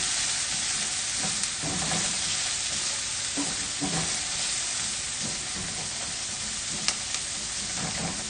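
Onions and seared pork frying over very high heat in a pan for chile verde, a steady dense sizzle and hiss with occasional stirring knocks and one sharp tap, heard close and unbroken by speech.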